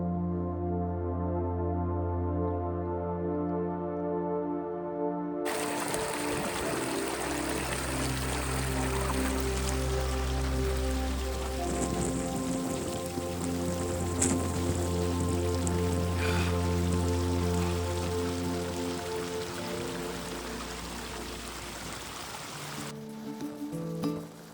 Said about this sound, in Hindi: लेकिन बारिश से नहीं बच पाएंगे